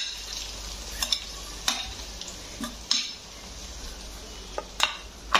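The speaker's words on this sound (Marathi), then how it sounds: "त्याच्यामध्ये तेल घालून आता हा मसाला भाजून घ्यायचा आहे" Spice masala roasting in hot oil for a spicy mutton curry, with a steady sizzle under sharp scraping stirs of a spoon against the pan, up close.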